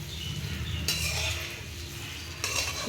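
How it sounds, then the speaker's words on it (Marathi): Sabudana khichdi being stirred and sautéed in a pan, with a low background hum, soft scraping, and two brief bursts of clinking utensil contact. "आता परतून घ्यायचं"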